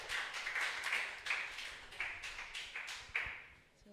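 An audience in a youth church hall claps to welcome a speaker: a brief, fairly faint patter of hands with distinct claps, fading away toward the end.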